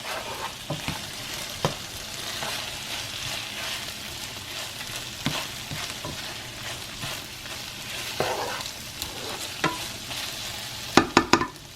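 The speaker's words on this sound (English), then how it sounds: "So you just keep searing up your beef until it's all brown" Beef sears in a hot pan with a low, continuous sizzle, broken by occasional sharp knocks and scrapes of stirring, and a quick cluster of clatters near the end.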